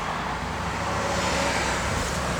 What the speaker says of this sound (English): it's all Corsa, dual exhaust, got a great sound to it